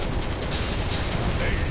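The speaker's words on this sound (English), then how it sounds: "I like that little explosion" A small explosion in the video game Final Fantasy 7 Remake, a dense burst of crackling, rumbling noise that stays loud and steady through the short moment.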